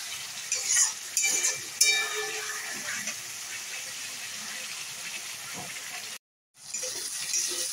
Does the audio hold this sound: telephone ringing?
no